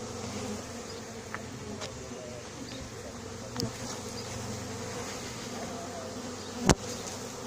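A swarm of honeybees buzzes in a hedge as a steady, dense hum that holds throughout. A few faint knocks and one sharp click rise above it.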